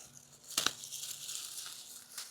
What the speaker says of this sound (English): All right, so I'm gonna cut these bushes.